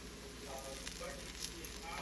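Raw banana fritters (bora) fry in oil with a soft, steady sizzle and faint crackling pops, quiet and close, continuous throughout.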